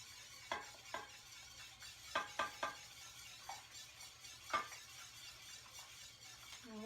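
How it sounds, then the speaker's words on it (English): Yogurt culture whisked into a big pot of milk at home, heard as quiet, irregular metallic taps and swishes of the whisk against the pot over a low steady hum, with no voices. "Whisking it all in."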